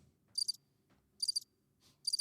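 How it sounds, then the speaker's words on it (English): Crickets trill in three short, sharp bursts spaced about a second apart, clear and fairly close against a quiet low background, with no talking. "The crickets keep going."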